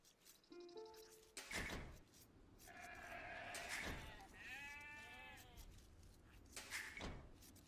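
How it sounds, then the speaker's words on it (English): Sheep in the Age of Empires II strategy game bleat several times in short wavering calls, close and fairly clear, with game sound effects and interface clicks around them. "we got our sheep coming in too"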